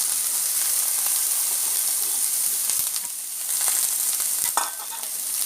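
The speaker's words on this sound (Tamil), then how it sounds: "இப்போ குடமிளகா நல்லா வதக்க விட்டுடலாம்." Capsicum sautéing in a pan with ginger-garlic paste and mint, a steady close sizzle and hiss with occasional stirring scrapes and clinks, running continuously without talk.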